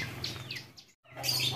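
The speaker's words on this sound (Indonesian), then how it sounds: "Lah ini burung perenjak sawah teman-teman." A plain prinia (perenjak sawah) near an aviary gives faint, thin chirps and a few brief whistled notes, broken by a moment of near silence before the calls resume.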